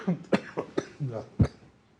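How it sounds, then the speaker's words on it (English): A run of several harsh coughs in quick succession, close and loud, with one sharp final cough before it fades to quiet. "picked up this cough yesterday, or day before yesterday, so pardon me."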